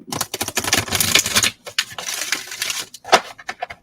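Rapid papery riffling and soft slaps of tarot cards being shuffled close by, coming in bursts with short pauses between them.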